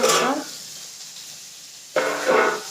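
Thin slices of potato and green banana frying in hot oil, two loud sizzling bursts as the slices go in, separated by a quieter low hiss.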